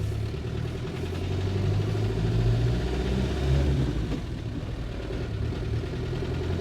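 A 1990s Land Rover Defender's engine drones steadily as the 4x4 drives along a road, a continuous mid-pitched rumble with slight swells in revs and no voices.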